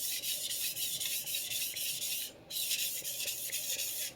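A vintage Clyde Cutlery chef knife blade being smoothed, with quick, regular back-and-forth rubbing strokes heard up close, pausing briefly midway before resuming, and no voices.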